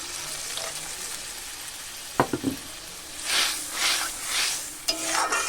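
Jute leaf curry simmers in a pan, giving a soft, continuous sizzle and bubbling, with a few close clanks of a utensil and stirring swooshes partway through.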